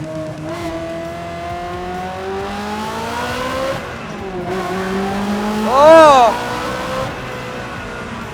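A Ferrari 360 with a gated manual gearbox revs on a canyon road as the driver downshifts third to second to first. Its rising and falling engine note is loud and close, with a sharp blip of revs near the end and a brief exclamation.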